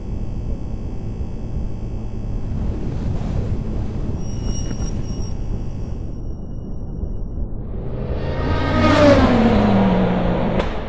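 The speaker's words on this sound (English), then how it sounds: "we're going to drive around a little bit and talk about this" A 2020 Tesla Model Y electric car is on the move, giving a steady broad road and wind rush that swells louder near the end with a rising whine and a passing whoosh.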